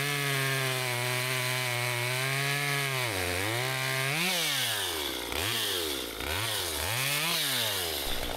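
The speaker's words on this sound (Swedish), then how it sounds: "Jag börjar med att vista av det med den lilla sågen." A small Stihl 192 chainsaw cuts through a wind-felled pine, its engine holding a steady high whine and then dipping and rising repeatedly as the throttle changes during the cut, close and loud throughout with no talking.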